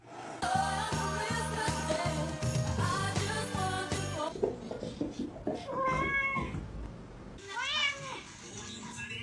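A pet cat meows several times up close, drawn-out rising and falling cries following a stretch of music with a steady beat, fairly faint overall.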